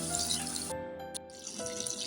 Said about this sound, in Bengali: এবার আমি দিয়ে দিচ্ছি এর মধ্যে পরিমাণ মতো জল